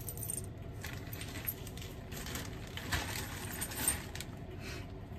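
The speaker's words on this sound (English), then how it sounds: "We have a load more keys," A bunch of vintage keys jangles and clinks at an antique fair, with soft, scattered metallic taps and rattles across several seconds, faint and close with no speech.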